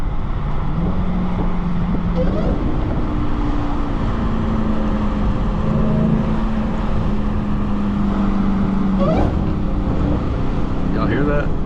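Dodge Challenger-style Hellcat Charger driving in rain with a window cracked: a loud steady engine drone with a sustained supercharger whine rising and falling over road and wind noise, heard from inside the cabin.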